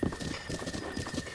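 Horse hooves clip-clop in rhythmic, quick footfalls while riding in Zelda: Breath of the Wild, clear and fairly close over a faint steady tone.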